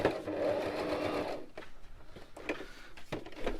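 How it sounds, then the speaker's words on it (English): A sewing machine stitches through paper in a fast mechanical rattle for about a second and a half, then stops and gives a few short clunks and bursts as the sheet is handled, close up. "this actual sewing machine doesn't do anything other than sew paper"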